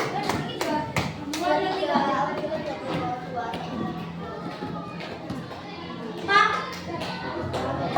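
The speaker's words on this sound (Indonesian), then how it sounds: "Tepuk tangan buat kelompok" Schoolchildren clapping in a classroom for a group, scattered sharp claps at the start and again near the end, with children's chatter and a teacher's voice running underneath.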